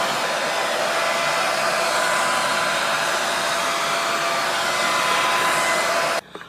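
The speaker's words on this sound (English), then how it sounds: "after blow drying your hair for a little bit until there's like a gel cast on it" Hair dryer blowing steadily on wet curly hair coated in gel, a loud continuous close whoosh with no talk that cuts off abruptly near the end.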